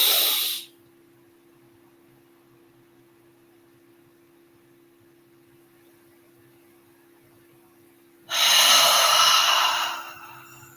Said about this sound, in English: inhaling through the nose, holding it at the top for 5 seconds